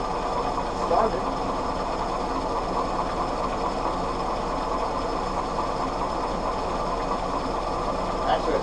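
Willys CJ2a flathead L134 engine idling steadily just after starting, a continuous even low mechanical rumble with a faint steady chatter, close by and unchanging.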